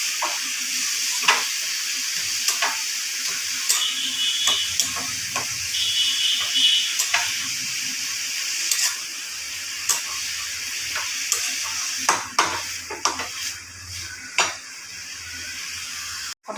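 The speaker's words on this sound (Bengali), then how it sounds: "দিয়ে ভালো করে নাড়তে হবে।" Ash gourd cooking with Amul milk in a pan, stirred steadily: a continuous soft sizzle and bubbling hiss with repeated scraping and clinking of the spoon against the pan, close and alone without talk.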